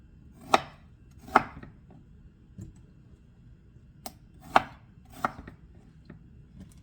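A knife chops through firm quinces on a cutting board, cutting each into thirds, several sharp, separate thunks at an uneven pace, close and fairly quiet between strikes.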